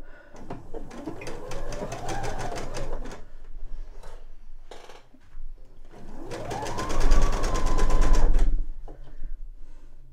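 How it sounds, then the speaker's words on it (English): A sewing machine stitches the top side of a beginner's eye pillow, running around the curves in two close, steady bursts of rapid whirring with a short pause between. "now I'm going to start sewing this top side and sew all the way around the curves"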